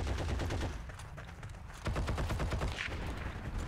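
Gunfire in the World War II shooter Heroes & Generals, with rapid bursts of rifle and automatic shots crackling continuously through the whole stretch, getting louder and denser in the second half.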